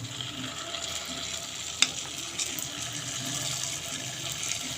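Spoonfuls of methi bondi batter fry in hot oil, making a soft, steady sizzle with faint bubbling and one sharp clink near the start.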